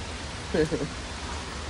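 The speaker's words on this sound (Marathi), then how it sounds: "आता लय बेकार पाऊस पडतो" Heavy monsoon rain falls at a farmhouse as a constant, even hiss with a brief voice breaking through near the middle.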